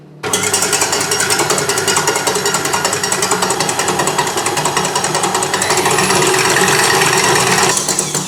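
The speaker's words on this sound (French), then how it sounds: "Pour monter les blancs d'œufs en neige, je vais d'abord commencer à petite vitesse et petit à petit," An electric mixer whips egg whites for a mascarpone pear and chocolate Yule log, a loud, close, unbroken motor whir with a rapid rattling beat that grows slightly stronger toward the end before cutting off.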